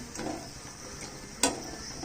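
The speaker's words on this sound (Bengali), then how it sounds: "এইভাবে করে আমি সবগুলো ভেজে নিচ্ছি জিলিপি" Steady, quiet oil sizzle of jalebi made from black gram dal deep-frying, with a single sharp click partway through.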